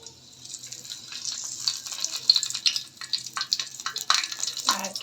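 Bay leaves hit hot oil in a pan, bursting into a loud crackling sizzle that pops and spits unevenly for several seconds, close by with no talk over it.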